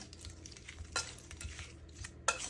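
Coconut curry shrimp is stirred in a pan with olive oil, giving soft scraping strokes over a faint sizzle, with a couple of sharper utensil clinks, quiet and close.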